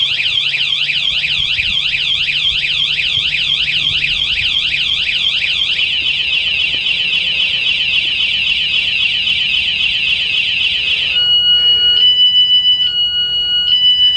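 A kayak trailer's security alarm blares loud and steady, a rapidly warbling electronic siren that shifts into a continuous high tone and then into pulsed beeps near the end, sounding alone with no talking.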